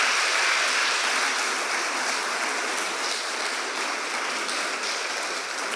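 Sustained congregation applause in a church service, a dense, even roar of many hands clapping at once, steady and loud throughout without talk.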